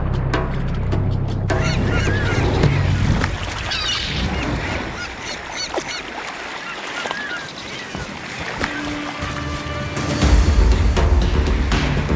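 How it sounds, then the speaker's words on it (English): Gulls call over the open ocean as they feed on a fleeing fish shoal, with repeated harsh, honking cries rising above a steady wash of wind and water that swells louder toward the end. "Even the gulls get their share."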